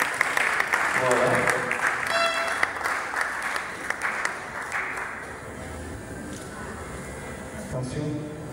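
An audience applauds and cheers at a church gospel tribute event for a mother, steady clapping through most of the clip with voices calling out and a brief ringing tone, fading slightly toward the end.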